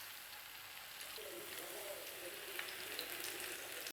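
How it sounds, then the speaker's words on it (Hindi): Balls of Maggi instant noodle pakora batter deep frying in hot oil, giving a steady, moderately quiet bubbling sizzle that runs evenly through the clip with no voices. "ऑयल गर्म हो गया और अब मैं सारे बॉल्स जो है एक ही बार इसमें डाल रही हूँ।"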